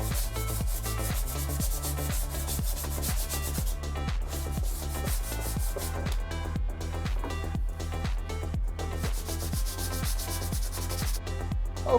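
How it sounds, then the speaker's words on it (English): Bondo filler being sanded by hand on a large scratch-built RC Airbus A350 model airplane, a steady rhythmic back-and-forth rasp with regular strokes, close and continuous with no talk. "here we are, finished sanding"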